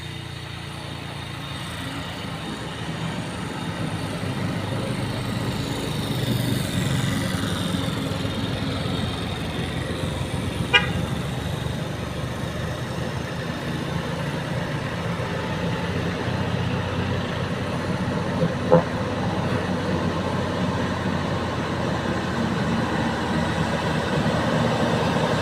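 Truck on the western-southern Aceh route grinding along in low gear, a steady broadband engine drone with heavy low rumble throughout, fairly loud, with a couple of brief clicks and no talk.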